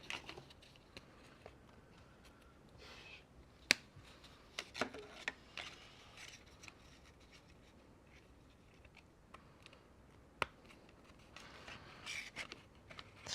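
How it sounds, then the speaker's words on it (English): Scissors snip through paper craft pieces for a haunted schoolhouse model: a few sharp, isolated cuts stand out over soft, quiet paper rustling and scratching, close and faint. "Really, once you get it going, you can actually snip with scissors,"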